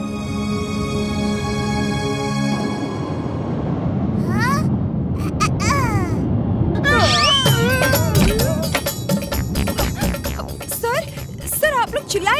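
Cartoon characters scream in a Hindi children's animated episode, with several overlapping voices shrieking loudly over busy music and crashing effects, lasting through most of the scene.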